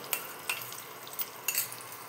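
Curry leaves and chopped garlic fry quietly in a pan, a soft steady sizzle broken by several sharp crackles and spatters, with no voices.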